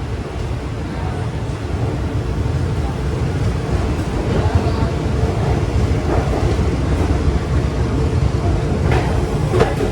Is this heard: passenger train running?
yes